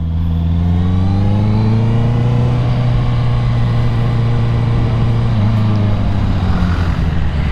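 A 2021 Honda CBR 650R motorcycle fitted with an Akrapovic exhaust rides along with a steady, loud engine drone and a slowly rising and easing pitch, close up, with no talking.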